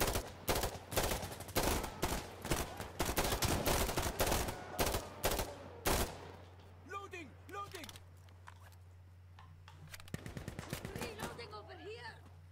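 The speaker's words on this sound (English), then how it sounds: "Oh no, somebody's getting shot over here." Gunfire in the video game Insurgency Sandstorm, played on Xbox: dense, rapid automatic bursts of close, loud shots for about six seconds, then scattered distant shots and footsteps, with a player talking.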